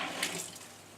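Water running from a tap on a Kangen water machine, a brief hissing splash that starts strong and tapers off quickly.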